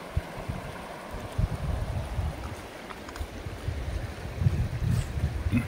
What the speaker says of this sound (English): here are some rapids in the river